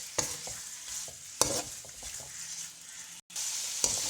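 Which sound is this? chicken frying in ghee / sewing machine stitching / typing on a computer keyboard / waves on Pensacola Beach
chicken frying in ghee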